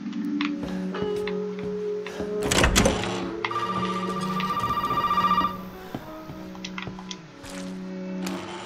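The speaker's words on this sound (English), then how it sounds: "I was wondering why there was a phone in here and it didn't ring" A telephone rings in the video game Resident Evil 7, with repeated bell-like trills sounding over game ambience, scattered clicks and a brief thud.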